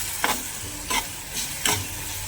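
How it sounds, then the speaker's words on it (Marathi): A masoor dal curry with chutney and salt is stirred in a pan, with a steady soft sizzle and three clear scraping strokes of the spoon at an even pace, close and without talk. "पुन्हा एकदा छान पद्धतीने असं हलवून घेणार आहे"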